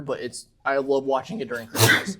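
A single sharp sneeze bursts out near the end, following a few casual spoken words from a man.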